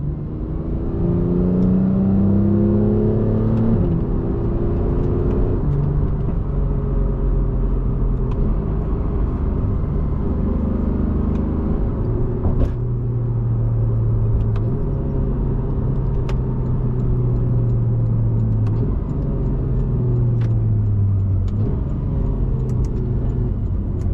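A 2015 Porsche 911 GT3 engine revs through the gears while driving, its rising and falling mechanical whine and gearbox noise steady and close inside the cabin, with no talking.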